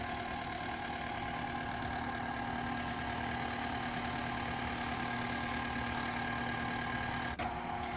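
An electric mixer runs on low speed through honey spiced cake batter as flour is added, a steady, even motor hum that continues unbroken, fairly quiet and without talk.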